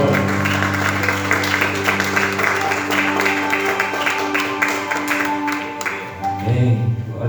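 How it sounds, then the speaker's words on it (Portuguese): A church congregation applauds, a dense, continuous clapping over sustained organ or keyboard tones, fairly loud and steady, with a brief dip near the end before the clapping swells again. "Você pode aplaudir o nome do Senhor."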